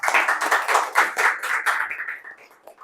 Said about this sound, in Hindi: तो एक बार नए लोगों के लिए तालियां हो जाए